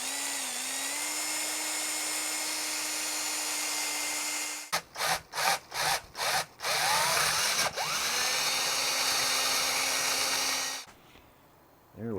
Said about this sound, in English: I want to drill in for the jack.